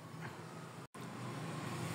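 Car engine idling rough with one fuel injector switched off, a steady uneven running drone heard alone, with a brief dropout near the middle.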